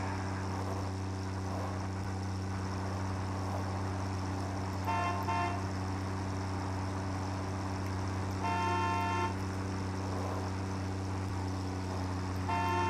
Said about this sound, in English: Figured out how to use the horn.